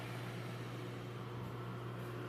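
A microwave oven heating a cup of water gives off a steady, even hum with a constant low tone underneath, quiet and unchanging throughout, with no crackle or buzzing.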